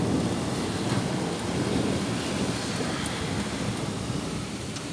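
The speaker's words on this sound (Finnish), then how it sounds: "Siellä jytisee ja vettä tulee niin sootanasti." Heavy rain pours down steadily outdoors during a thunderstorm, with dense, continuous hiss and low rumbling thunder rolling underneath throughout, no voices present.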